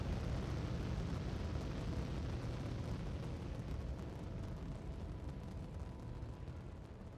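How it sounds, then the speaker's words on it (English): A rocket launching in the space-building game Aetheria: Eden Crafters, a continuous loud roaring rumble that stays dense and steady throughout, slowly easing slightly toward the end, no talk over it. "But there goes our rocket."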